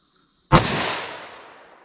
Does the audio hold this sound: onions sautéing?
no